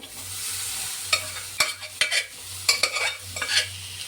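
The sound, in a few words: stirring cooked beans in a pan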